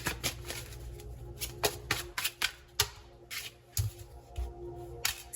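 Tarot cards shuffled by hand, a string of quick papery riffles and taps in uneven bursts, close and soft, with no voices.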